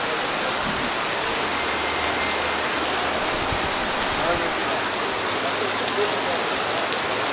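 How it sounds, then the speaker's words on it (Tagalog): Heavy rain pours steadily at an inland agro resort, a dense continuous hiss of drops on surfaces, close and loud throughout. "Kusog na kayong ulan no tanawa."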